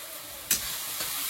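Turmeric, salt, chilli, coriander and cumin powders sizzle in a hot pan as the masala is cooked down, a steady faint hiss with a sharp burst of spitting partway through.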